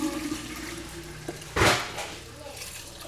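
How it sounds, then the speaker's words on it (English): Sanitizer liquid poured into a jar while making a homebrew ferment, a short gushing splash burst of liquid in the middle, close and fairly loud over a quiet room. "the easy way to sanitize is just basically pour the liquid in"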